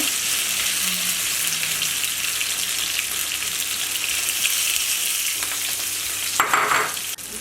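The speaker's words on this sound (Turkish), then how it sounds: "Brokollerimizi de başladık kızartmaya." Broccoli sizzling and frying steadily in a hot pan, with a brief clatter of stirring near the end.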